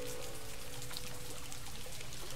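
Steady rainfall pours and patters densely on a surface as a sound effect in a read-aloud story, a continuous, fairly loud hiss of drops with no voices over it.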